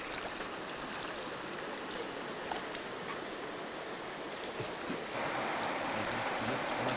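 A river stream in Sitka, Alaska, flowing over gravel and carrying salmon eggs, gives a steady, close rushing wash of water that continues throughout and grows slightly louder near the end.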